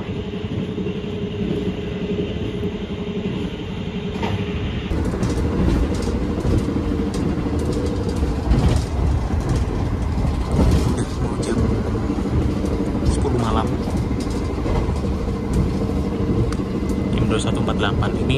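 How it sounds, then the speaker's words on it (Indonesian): KA Taksaka train heard from inside a carriage on the Jogja-Jakarta run: a loud, continuous rumble with rail clatter and rattling, with a voice talking over it. "Enak juga ya naik kereta anak emas, bisa melibas kereta apa saja di depannya."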